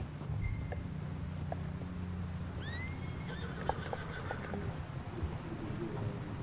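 A horse in the video game Red Dead Redemption 2 gives a rising whinny midway, with light hoof clops scattered through a steady low rumble of stormy wind and weather.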